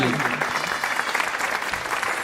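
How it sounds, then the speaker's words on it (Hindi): Supportive audience applause at a Hindi shayari and poetry contest, a continuous loud burst of clapping from a crowd with no talk over it. "आप लोग पर जोरदार समर्थन ताली से कीजिए मेरा।"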